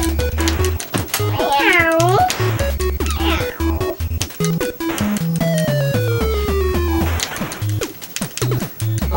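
Cat meowing in the Animal Crossing video game, several rising and falling meows mixed with game music and other sound effects, loud and close.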